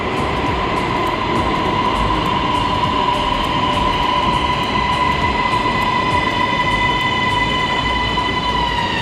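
A Bangkok MRT Blue Line metro train rumbles steadily with a sustained whine and hum, loud and continuous, wheels rolling as it pulls into the station.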